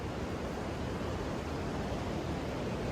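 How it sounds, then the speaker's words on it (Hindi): Continuous monsoon rain falls while a mountain river rushes nearby in Uttarakhand, forming a dense, unbroken hiss of water that is steady and fairly loud throughout. "आज सुबह से बारिश हो रही है, एक बार के लिए भी थोड़ी सी बारिश बंद नहीं हुई है।"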